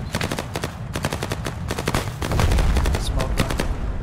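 Rapid automatic gunfire fills a firefight in the Vietnam War game SOG Prairie Fire, with loud, sharp bursts in quick irregular volleys under a steady low rumble.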